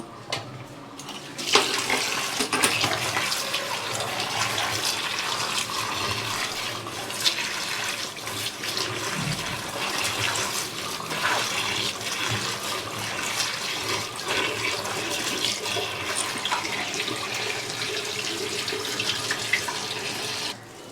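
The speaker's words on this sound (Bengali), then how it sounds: "এবার আমি চাল কুমড়োটা ভালো করে ধুয়ে নেব।" Water from a tap runs continuously and fairly loudly while an ash gourd is washed, with splashing and small clatters over the steady gush.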